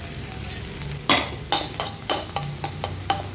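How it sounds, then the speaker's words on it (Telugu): Garlic dropped into hot butter for egg rice sizzles and spits close up, with sharp crackling bursts at a steady pace over a low frying hiss, and no voices. "ఇప్పుడు ఈ బటర్లో ఎల్లుల్లిపాయలు వేసుకుందాం"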